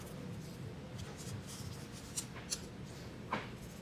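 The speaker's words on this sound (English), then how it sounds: "I'm going to rub it with the backside of a pencil." The back of a pencil rubs traced paper onto a print block, making soft, faint scratchy strokes with a few light taps, heard alone.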